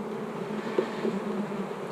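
Honey bees buzz steadily inside an open queenless hive, a low continuous drone with a few brief louder passes close by, no talking.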